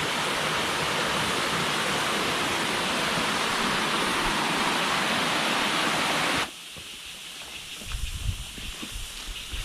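Water rushes steadily down from above in a Himalayan forest, a loud, continuous broadband roar that cuts off abruptly near the end, leaving quieter forest ambience with faint rustling.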